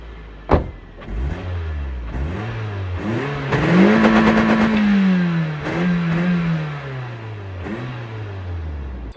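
A 2002 Toyota Echo small four-cylinder car cranks and fires up, then idles before its engine revs up and settles back down, heard close and clear with no talk.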